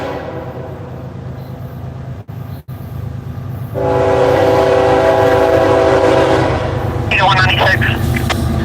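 Norfolk Southern freight train NS196 rumbling close by at a crossing in Soddy Daisy, a steady loud roar with a long horn blast rising midway and a brief higher whistle-like tone near the end, with faint talk underneath.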